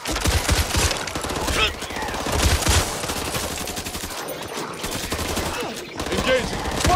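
Dense gunfire in the zombie shooter Back 4 Blood, with rapid bursts of automatic shots and heavy volleys crowding together almost without pause, loud and close, while voices shout over the din.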